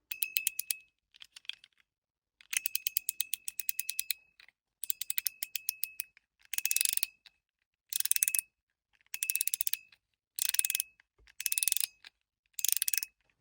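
Rapid bursts of crisp mechanical clicking from a 01 EDC Peak Mechanical fidget toy, in short repeated runs separated by brief pauses, close and fairly loud.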